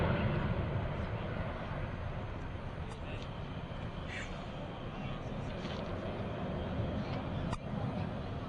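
A C-17 Globemaster III military transport jet roars in a steady, broadband rumble as it flies a slow-speed, high-maneuverability demo at an open house air show, heard from a distance while an announcer speaks over the PA.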